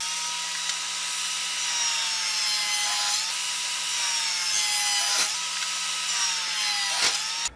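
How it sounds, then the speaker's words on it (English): Steady, loud whine of a power saw cutting wood pieces for a woodworking project, holding an even pitch for several seconds with small dips as the blade bites, ending abruptly; no talk. "Now I'm ready to go ahead and cut all my pieces."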